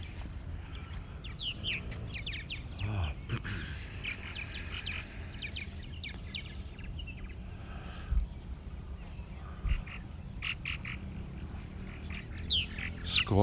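Purple martins calling in the evening at a backyard colony, a steady stream of chirps, gurgles and squawks, some near and some distant, with occasional soft thumps and no talking.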